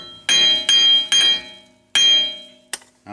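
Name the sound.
hammer striking a wheel stud on a car hub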